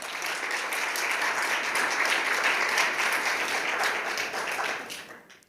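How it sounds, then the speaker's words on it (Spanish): Audience at a university innovation and technology event applauds in a dense sustained wash of clapping that fades out near the end. "Un aplauso también, por favor"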